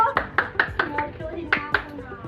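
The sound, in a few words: hand clapping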